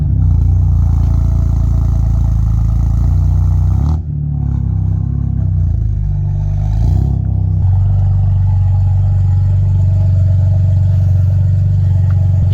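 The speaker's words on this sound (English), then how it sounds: "let's finish the day with a cold start." A car engine cold start, a steady loud idle that dips briefly around four seconds then settles back into a continuous low rumble, with no talk over it.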